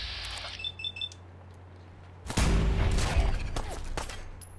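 Rapid gunfire against zombies at a Starlight Drive-in settlement in a video game: a loud, sustained volley of shots rattles for about two seconds after a few quieter beeps and small clicks.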